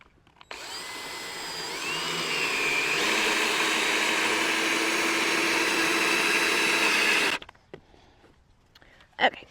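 Power drill driving a screw in outdoors by a garden of squash plants, a sustained rising whine lasting several seconds that cuts off abruptly, followed by faint handling noises.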